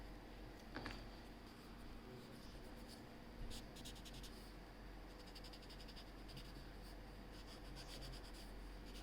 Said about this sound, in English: Now the rest can be done with the paper stump.